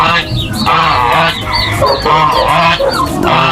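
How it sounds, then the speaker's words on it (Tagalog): Loud, raucous goose honking, repeated calls in close succession over a busy farmyard background, nearby and continuous. "Kuha kong isang gansa dito. Maingay."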